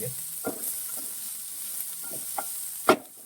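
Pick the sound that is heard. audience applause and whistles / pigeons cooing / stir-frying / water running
stir-frying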